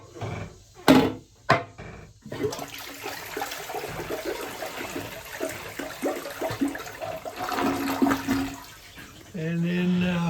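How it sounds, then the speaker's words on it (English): A toilet flushes with a surge of rushing water that settles into a steady trickle and refill hiss at a lake house where the water had been turned off, with a few knocks and thumps and voices talking over it. "We'll flush the toilet."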